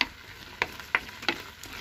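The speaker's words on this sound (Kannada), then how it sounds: "ಸಣ್ಣ ಸಣ್ಣ ಗುಳ್ಳೆ ಗುಳ್ಳೆ ಗುಳ್ಳೆ ಬರ್ತಾ ಇದೆ." Tomato chutney cooks down in a pan with a steady soft sizzle and bubbling, broken by four or five sharp scrapes of stirring spaced through the moment.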